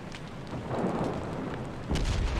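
Naval gunfire strikes a ship in World of Warships, with HMS Nelson taking hits: a sustained rumbling barrage of booms, then a heavier, louder impact near the end, with no talking.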